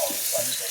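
Tap water runs into a kitchen sink while dishes, a plate and a vegetable cutter are washed, a steady close splash with brief swells, and a voice speaks over it.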